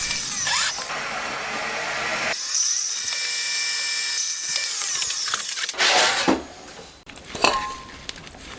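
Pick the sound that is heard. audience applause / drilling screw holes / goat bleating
drilling screw holes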